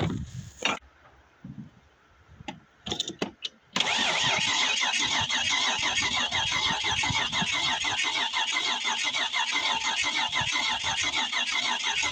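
An old Nissan Pathfinder, parked for 13 years and on a weak battery, cranks through a few brief stuttering tries, then catches at about four seconds and settles into a steady, rough-edged idle up close.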